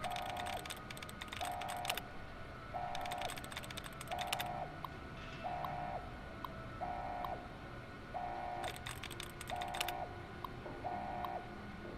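Computer terminal hacking in Fallout: New Vegas: bursts of rapid keystroke clatter alternate with a repeating soft electronic tone, steady and close against a low hum.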